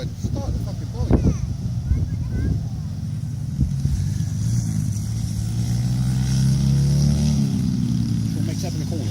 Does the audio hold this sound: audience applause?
no